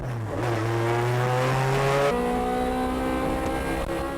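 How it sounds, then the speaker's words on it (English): Tuned sports cars, including a Nissan Skyline R34, race on a circuit with a loud close engine howl that climbs through gear changes, with a sharp shift midway and steady high revs after. "Ito locks on to the MCR R34, passes at the 2nd hairpin entry"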